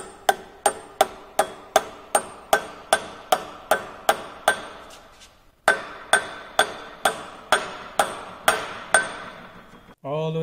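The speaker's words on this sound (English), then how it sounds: "Hammer it on all sides." A new pilot bearing being hammered into place around its sides, heard as about twenty evenly spaced metallic hammer strikes, loud and close, with a short pause midway.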